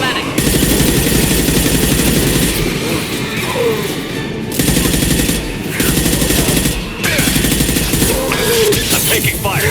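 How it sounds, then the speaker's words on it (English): Dense, loud automatic gunfire and explosive booms from the Mass Effect 2 shooter game fill the whole stretch, with rapid bursts, brief gaps, and battle noise layered throughout. "I'm taking fire."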